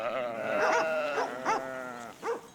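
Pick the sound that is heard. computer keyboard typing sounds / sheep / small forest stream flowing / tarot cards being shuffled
sheep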